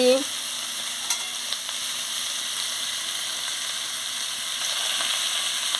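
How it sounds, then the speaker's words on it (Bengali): Chopped vegetables with pumpkin flowers fry in a pan under a steady, close sizzling hiss, broken by a few soft scrapes as they are stirred. "দিয়ে ভালো করে নাড়িয়ে নিচ্ছি"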